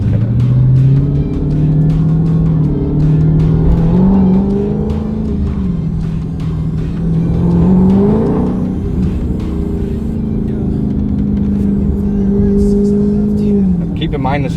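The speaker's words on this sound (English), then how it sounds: "once that supercharger kicks in at RPM, you really start to feel it." Supercharged Dodge Charger engine revving and pulling hard from inside the car, its loud droning note climbing and falling through gears for the whole stretch, with someone talking over it.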